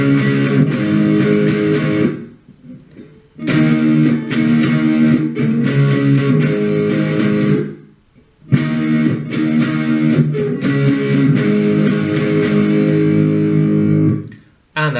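An electric guitar with heavy distortion plays the intro in loud, driving strummed chords. It comes in two long phrases with brief pauses between them, close and with no talk.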